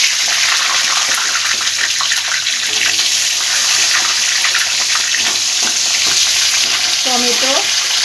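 Cumin seeds and onion fry in hot mustard oil for a Bengali chicken dish, giving a loud, continuous close sizzle broken by occasional spoon stirring and scraping in the pan.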